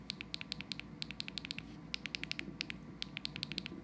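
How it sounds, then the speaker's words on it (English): Clicky buttons on a protective iPad Pro case are pressed in quick irregular bursts, producing sharp, close, crisp tactile clicks over a quiet background. "They feel pretty tactile and provide some good clicky feedback."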